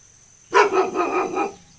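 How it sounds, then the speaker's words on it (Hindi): A large dog barks at a house with a flower garden, giving one close, loud burst of rapid, rough barks that lasts about a second before it stops. "उधर कुत्ता भी भौंक रहा है।"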